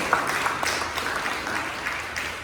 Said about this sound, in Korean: 우리 한번 박수로 다시 한번 그들 한번 격려하겠습니다.